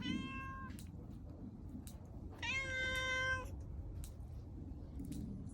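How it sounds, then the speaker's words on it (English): An outdoor cat in a garden meows twice, a short cry followed by a longer drawn-out one, fairly close and clear over a low background hum. "There goes my cat."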